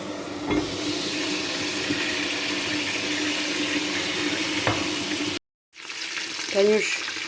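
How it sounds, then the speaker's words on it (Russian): Meat cutlets fry in a pan with a steady, close sizzle and hiss, broken by a brief silent gap, followed by a short snippet of a voice speaking. "жарим котлетки"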